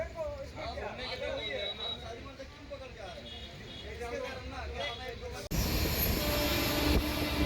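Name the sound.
train running at speed, Puri Shalimar Superfast Express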